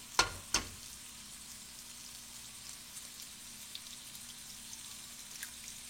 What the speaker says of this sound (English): we'll cook our eggs